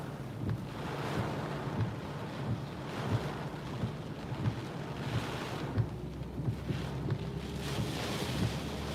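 Hurricane Florence winds roar outside a car driving around New Bern, North Carolina, a continuous rushing gale with surging gusts and faint low rumbles, no talking.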